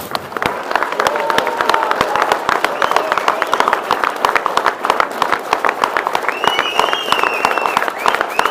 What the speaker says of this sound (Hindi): अब इमरान खान के लिए तालियां बजाएं।